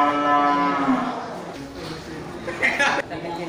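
Cattle for fattening low and moo loudly at a livestock market, one long bellow dominating the first half before fading into crowd chatter and rustling, with people talking nearby.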